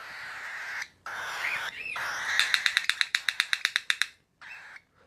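A pet bird gives a run of loud, rapid, evenly spaced squawks close by, with other calls and squeaky vocal sounds before and after and brief silent pauses in between.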